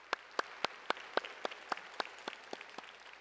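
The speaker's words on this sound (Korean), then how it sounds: "뜨거운 사랑과 격려의 박수 드리겠습니다" Sharp, evenly spaced claps ring out one after another, about three per second, fairly close against a quiet background, during a Sunday church service in Vancouver.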